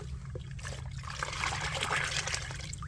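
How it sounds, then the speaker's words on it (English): Homemade orange peel fertilizer liquid pours steadily onto garden soil around plants, a continuous close trickle and splash with a low hum underneath, no voices. "simply pour the liquid directly onto the soil around your plants"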